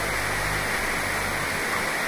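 Madakaripura waterfall pours with a constant, dense rushing roar, loud and close, with no pauses and no voices.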